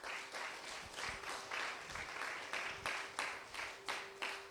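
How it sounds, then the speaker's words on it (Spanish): A church congregation applauds in a quick series of rhythmic bursts of clapping, steady and moderately loud, repeating roughly every half second with a faint held tone underneath. "¿Por qué no nos da un fuerte aplauso,"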